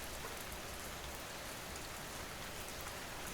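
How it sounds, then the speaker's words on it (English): Steady rain falls in an even, dense hiss of drops on a surface, constant and unbroken throughout with no voices. "let this rain keep playing"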